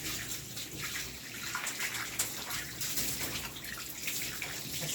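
Water from a handheld sprayer rinses soap and excess product off a puppy in a bath, a steady close splashing and hissing spray that runs unbroken throughout with no talking.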